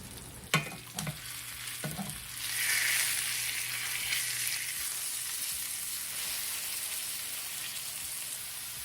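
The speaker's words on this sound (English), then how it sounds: "We're just trying to get a nice sear on the outside, good browning, good Maillard." Beef searing in a hot pan with onions for barbacoa tacos, a few sharp utensil knocks at the start, then a steady close frying sizzle that swells and holds.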